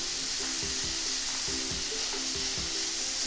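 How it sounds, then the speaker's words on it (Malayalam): Half a kilo of grated carrot fries in ghee for carrot laddu, giving a steady, close hissing sizzle with soft rhythmic scraping from stirring throughout. "ഈ നെയ്യിൽ തന്നെ നമുക്ക് ഗ്രേറ്റ് ചെയ്ത 1/2 കിലോ ക്യാരറ്റ് കൂടി നമുക്ക് ഇട്ട് കൊടുക്കാം"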